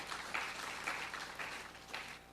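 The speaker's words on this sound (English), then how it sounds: "I think we should give a round of applause" Audience at a graduation ceremony clapping together, a dense, steady wash of applause with slight swells, heard from within the hall and nothing else over it.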